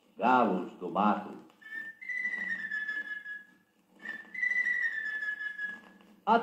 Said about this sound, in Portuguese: Galos do mato.